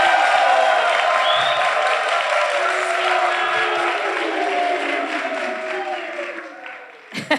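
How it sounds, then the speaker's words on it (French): Audience applause for the orchestra at an outdoor summer concert, a dense, sustained clapping crowd that fades gradually over several seconds, ending with a few scattered claps. "il faut applaudir l'orchestre"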